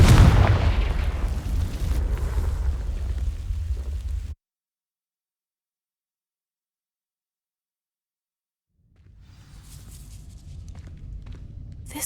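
Confringo fire spell cast at dry vines in the Hogwarts Legacy video game, a loud booming burst with crackling that cuts to silence, then low rumbling ambience returns.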